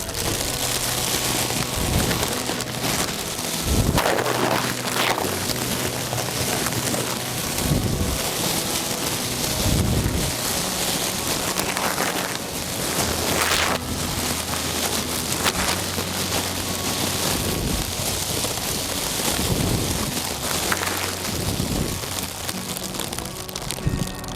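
A plastic vegetable carry bag is rustled to imitate falling rain, giving a steady, even hiss with faint patters that runs unbroken throughout.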